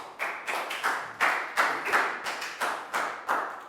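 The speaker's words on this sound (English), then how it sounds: "High five and a big round of applause for Pat," A classroom round of applause for a Year 4 maths pupil named Pat comes across as about ten evenly spaced, sharp hand claps, moderately close and steady, with no voices over them.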